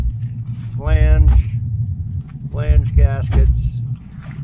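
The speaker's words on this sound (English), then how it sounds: "he's got some bad exhaust leaks" A 1980 Camaro Z28 engine with bad exhaust leaks idles roughly, a loud steady low rumble running throughout while someone talks over it.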